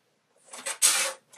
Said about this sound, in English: And I'm just going to draw a line.